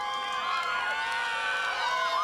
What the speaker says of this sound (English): Everybody, a round of applause for Haiku Jim!